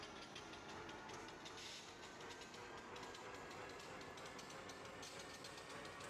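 A train rolls along a track in the railway-building game Mashinky, a faint, steady rumble with rapid repeating clickety-clack ticks running evenly from start to finish.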